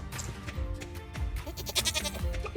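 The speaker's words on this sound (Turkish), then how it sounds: "Kuzu." Lamb bleating in the Stardew Valley farming game, several wavering bleats repeating over about two and a half seconds, close and fairly loud over a busy backdrop of game music and farm sounds.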